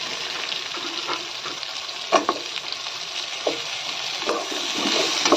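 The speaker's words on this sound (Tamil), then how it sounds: "உருளைக்கிழங்கையும் சேர்த்து வதக்கிக்கலாம்." Potatoes sizzle steadily as they sauté in a hot pan, with occasional scrapes and stirs of a spatula, close and moderately loud, without speech.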